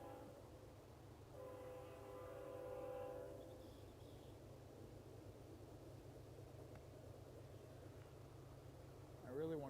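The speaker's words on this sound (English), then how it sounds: "got the train coming by again." A train rolls past with a steady low rumble, and a horn sounds for about two seconds early on. The wildlife setting is outdoors, and faint voices can be heard under the noise.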